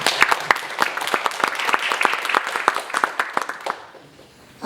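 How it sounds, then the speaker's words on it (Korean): Congregation at a church seminar applauding, a dense burst of many hands clapping with sharp individual claps standing out, steady for about four seconds and then quickly fading out. "하나님께 영광의 박수를 먼저 올려드리겠습니다."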